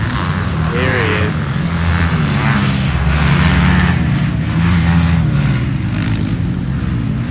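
A Kawasaki motocross bike revving around a dirt motocross track, a loud continuous engine drone with shifting pitch close by, mixed with other engine noise.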